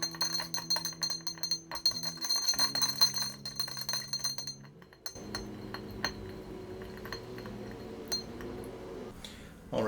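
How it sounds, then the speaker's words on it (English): A spoon stirs an Old Fashioned cocktail in a glass to dissolve the sugar, making rapid repeated metallic clinks that ease into quieter, softer swirling. "Now I'm going to stir this some more to try to fully dissolve that sugar if possible."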